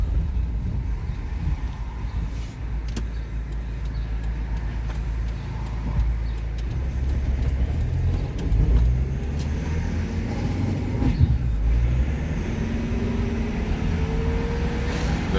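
Car engine running while driving, a steady low rumble with road and wind noise and occasional sharp clicks and rattles, the cabin reportedly smelling of burning.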